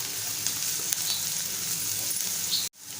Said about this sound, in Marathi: आणि परतवून घेऊया।